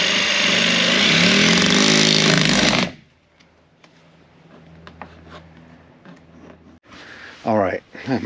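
A jigsaw cuts in a loud, harsh, continuous buzz for about three seconds, then stops abruptly, leaving quieter handling noises and a voice.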